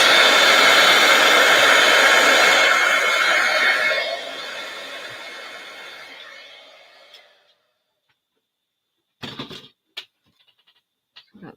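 A hair dryer blows steadily to dry paint, a loud broadband whoosh for several seconds that fades and cuts out, followed by a few faint brief knocks and rustles.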